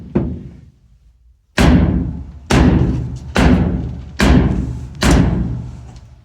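Underground blasting round at the Copper Queen Mine, five heavy detonations arriving about a second apart after a faint first thump, each a deep booming report with a decaying tail, moderately loud rather than sharp.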